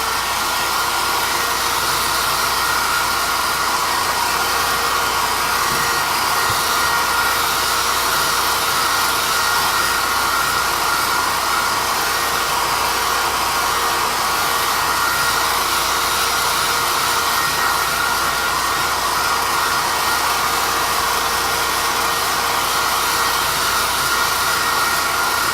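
A hair dryer runs continuously at full blast, a loud, close, steady whooshing roar with an even motor whine that never changes for the whole stretch.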